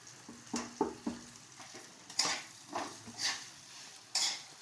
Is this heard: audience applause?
no